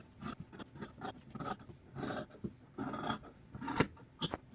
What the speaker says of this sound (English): So now I'm just going to cut this out.